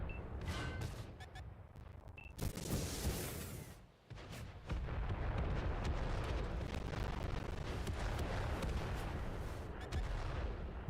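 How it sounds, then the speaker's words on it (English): Rockets fire and explode in World of Tanks, with a run of sharp cracks, then a loud booming blast and a sustained roar of gunfire and rumbling detonations through the rest of the battle. "Trying to snipe him with the rockets."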